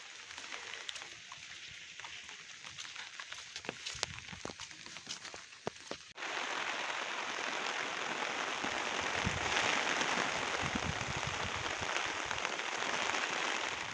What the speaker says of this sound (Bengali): বৃষ্টি তো অনবরত হয়েই চলেছে সারা দিনটা ধরে।